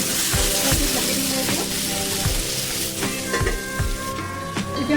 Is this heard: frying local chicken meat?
yes